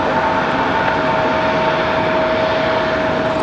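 A CRJ regional jet at Raleigh-Durham airport gives a steady, loud engine roar with a sustained whine, continuous throughout with no talk.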